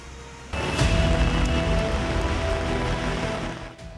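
Heavy rain during flooding downpours around Mumbai: a dense, loud, steady broadband wash that starts abruptly and holds for a few seconds before fading slightly, with no talk.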